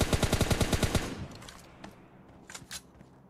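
A rapid burst of about ten M416 rifle shots in a video game fires in quick rhythm, then fades to quieter scattered pops and shuffling noise.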